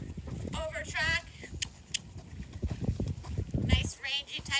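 A rangy horse jogging on firm ground, steady rhythmic hoof clip-clop at moderate distance, faint under someone talking and light wind noise on the microphone.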